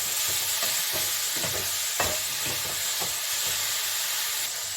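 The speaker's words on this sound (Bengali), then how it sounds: "এই আলু সিদ্ধ কয়েকটা এর সঙ্গে আমি ভেজে নেব" Boiled potatoes fry in a pan, giving a soft, steady sizzle and hiss with repeated stirring scrapes and taps, heard close and fairly quiet with no speech.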